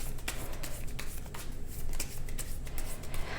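Tarot cards being shuffled close by, a continuous papery riffling and flicking with soft rhythmic slaps, no talking.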